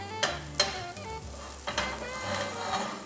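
A pancake fries in a greased skillet with a soft continuous sizzle. A few clear clinks of a utensil come close up near the start, and the sound carries on alone with no voices.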